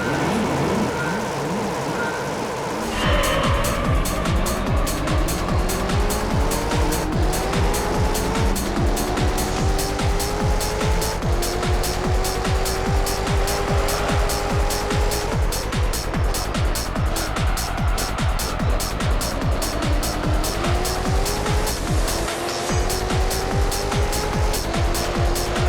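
Race cars lapping the Grand Valley circuit in Gran Turismo 3, a steady loud engine drone with rising and shifting tones as gears change, sustained throughout with a sharp start.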